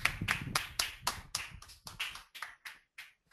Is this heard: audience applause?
yes